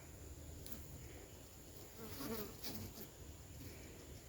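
Honeybees hum around a colony box during hive splitting, a faint, continuous outdoor buzz that swells briefly midway with no speech.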